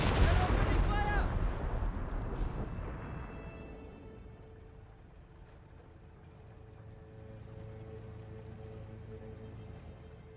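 Artillery in Company of Heroes 3 booms loudly up close at the start, a heavy blast with crackling bursts that fades into a long rumbling tail, with a low mechanical drone continuing afterward.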